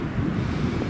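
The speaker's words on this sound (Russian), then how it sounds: "Ветрище дует." Strong wind gusts roar in a forest clearing at a logging site, a dense, continuous buffeting rush that fills the short moment.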